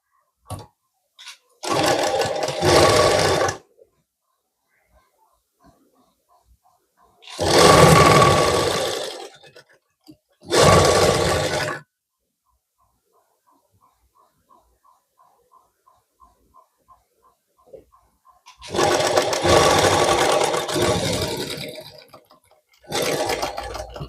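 A sewing machine stitches a blouse sleeve in several separate bursts of steady loud whirring with quiet pauses between them, faint ticking in the gaps and no talking over the runs.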